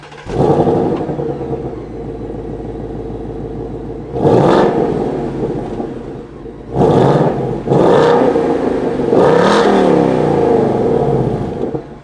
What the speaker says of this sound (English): see how the stock exhaust sounds with a couple light revs